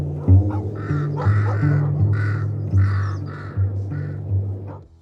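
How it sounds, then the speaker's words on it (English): Several crows caw repeatedly in harsh, overlapping calls, fairly close and loud, with a steady low hum underneath throughout. "I added a sound effect of crows making their cool sound"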